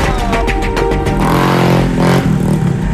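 A motorcycle engine revs loudly and close on a muddy, sandy, rocky track, with sharp rising and falling throttle bursts and clattering over a rough idle and no talk.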